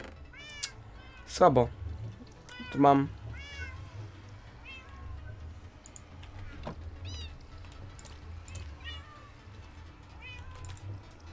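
A cat meows in the video game Minecraft, with two louder, close calls early on and fainter cries scattered through the rest, mixed with a low ambient hum while someone talks over it.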